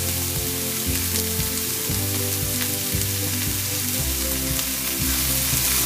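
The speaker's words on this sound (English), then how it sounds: "After roasting the vegetables for 2 minutes, I'll add the salt to taste." Vegetables roasting in a pan for a cheese-sauce pasta give off a continuous, close sizzle and crackle with occasional stirring scrapes, steady throughout with no talking.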